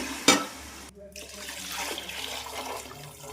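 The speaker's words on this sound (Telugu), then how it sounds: "వాటర్ వేసుకుందాం." Water splashes into a cooking pot over browned, fried garlic paste while making bagara rice: a short, sharp pour, then a faint ongoing sizzle and bubbling in a quiet kitchen.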